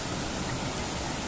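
Water flows past the side of a rock, a steady, even rushing wash heard close and unbroken, without voices.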